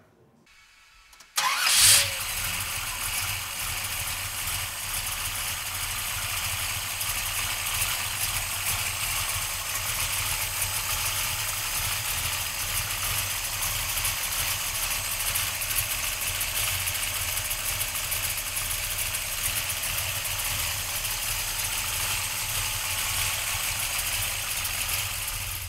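A 1972 Chevrolet Chevelle with a stroker engine cranks briefly, catches and settles into a loud, steady, rumbling idle held close and alone for over twenty seconds.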